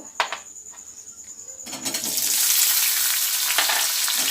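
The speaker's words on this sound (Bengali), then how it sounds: "এর সাথে আমি কাজু কিশমিশটা কিছুটা নেড়ে নেব।" Cashews and raisins hit a pan for vermicelli kheer and fry, starting with a few utensil clicks, then a loud steady sizzle with occasional stirring scrapes.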